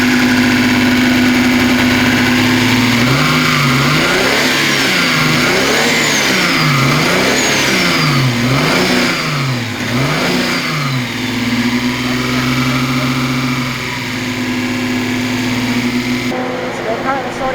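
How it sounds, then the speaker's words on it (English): A modified Nissan 200SX engine revs repeatedly in a rising and falling rhythm over a steady idle, loud and close, then settles back to idling; people talk over it. "sorting out an issue with the DCT solenoid, which you'll hear if Sam revs it"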